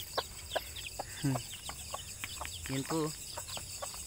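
Newly hatched native chicken chicks peep in short, high chirps scattered over a few seconds, with adult hens clucking nearby and someone talking briefly over a steady background hiss.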